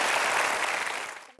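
Crowd applause from a studio audience at an Indonesian talk show, a dense, steady burst of clapping that fills the moment and then cuts off quickly.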